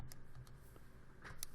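Quick, light button presses tapped into a calculator, a short irregular run of small clicks at low level over faint room noise.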